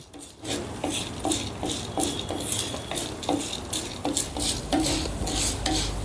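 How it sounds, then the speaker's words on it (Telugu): Coriander seeds and urad dal dry roasting in a pan, heard as rhythmic scraping and rattling strokes of a spoon stirring the dry seeds, repeated about once every half second, close and clear with no talk. "ఒక టేబుల్ స్పూను మినపప్పు వేసుకుందాం ఇప్పుడు వీటన్నిటిని దోరగా వేపుకుందాం"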